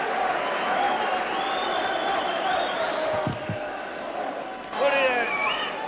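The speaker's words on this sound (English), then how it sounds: "So a big crowd here at the Oval." A big football crowd of several thousand at the Oval during a cup final replay gives sustained applause and murmur, with a commentator talking over it and a short burst of louder cheering near the end.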